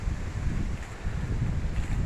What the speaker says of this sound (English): wind coming from the west